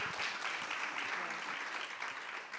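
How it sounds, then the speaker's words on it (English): An audience at a civil society leaders' panel breaks into applause, a dense, steady wash of clapping from a sizable crowd at moderate distance, lasting the whole stretch with a faint voice or two underneath. "I think you got some applause coming"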